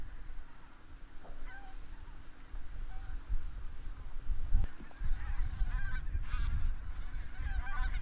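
Migratory geese honking over harvested rice paddies on reclaimed land in Seosan, South Chungcheong, a flock calling repeatedly at moderate distance over steady outdoor ambience.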